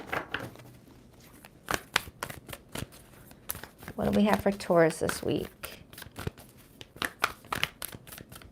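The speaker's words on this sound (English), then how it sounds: "2 more shuffles for Taurus." Tarot cards being shuffled, with repeated crisp riffling bursts in quick succession under and between a woman's speech, fairly close.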